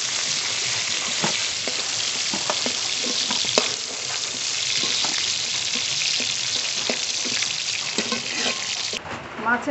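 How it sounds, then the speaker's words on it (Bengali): Fish fries lightly in hot oil with a continuous crackling sizzle and occasional stirring clicks, the sizzle cutting off near the end; faint voices underneath. "মাছ ভেজে নিয়েছি, খুব কড়া করে ভাজবো না, একটু হালকা করে ভেজে নিয়েছি।"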